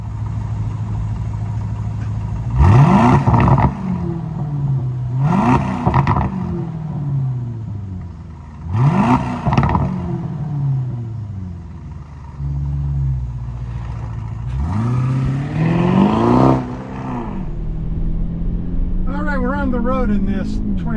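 A 2023 Aston Martin DBX Sport Plus drives on the road and accelerates in repeated surges, the engine note rising and falling through gear changes, close and loud.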